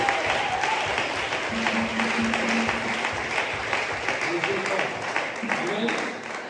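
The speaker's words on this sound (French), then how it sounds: "Secoue la main et acclame pour Jésus" A congregation at a family church service applauds and cheers for Jesus in a dense, continuous wash of clapping, with voices mixed in throughout.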